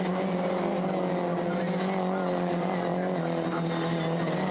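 Mini Challenge race car lapping the circuit at Rockingham, engine note steady and buzzing with a strong low drone, heard at moderate distance and continuous throughout.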